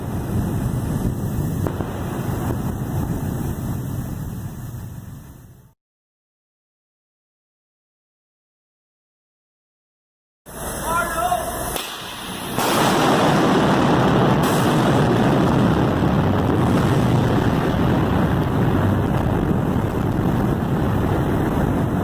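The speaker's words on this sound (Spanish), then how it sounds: "hay una explosión de esas debajo del mar." Underwater explosion beneath the sea: a steady wash of rushing noise, a few seconds of total silence, then a sudden loud broadband roar that swells and keeps rumbling to the end, with no voices.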